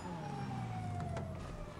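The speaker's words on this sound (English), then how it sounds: "We have to take the ambulance." An ambulance siren in the video game GTA Online wails faintly with a steady, slowly falling tone over a low engine rumble, alone without talk.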